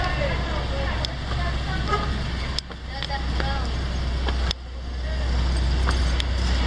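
Cars driving through a city street in Valparaíso, Chile, a continuous mid-distance traffic roar with engine rumble and a couple of abrupt dips where passing vehicles change, some faint ticking over the steady noise.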